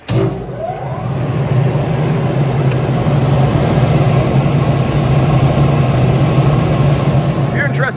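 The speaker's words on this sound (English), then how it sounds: "It is a three-phase blower. We'll turn it on now so you can see and hear it in operation." A New York Blower 5 HP three-phase exhaust blower, model EB2262, running steadily after a short start, giving a loud, even low hum and airy rush that holds through to the end.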